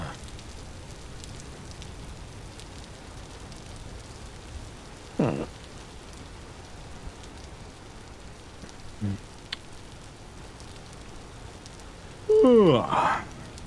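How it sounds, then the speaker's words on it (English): Steady rain falls in the video game Vintage Story, a soft continuous patter beneath a few brief louder game sounds, with a person's voice breaking in near the end. "the rain's nice."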